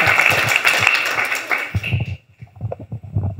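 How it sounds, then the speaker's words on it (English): An audience at a hackathon pitch event gives a dense burst of applause lasting about two seconds before it fades into quieter room sounds. "Round of applause."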